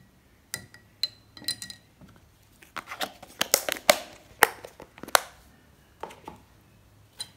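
A spoon clinks against a glass while stirring a turmeric drink, giving a run of sharp, bright taps and scrapes in irregular bursts, close and fairly quiet, with no talk.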